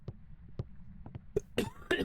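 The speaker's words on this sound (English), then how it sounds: "Sorry about the coughing." Several short, sharp coughs come from one person close to the microphone, scattered irregularly and growing louder and harsher toward the end.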